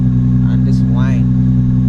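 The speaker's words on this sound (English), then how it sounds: "He did say the transmission would be whining, so I guess that's the transmission whine" A Nissan 350Z's transmission whine rides over a loud, steady engine drone from inside the moving car, with a voice briefly talking over it.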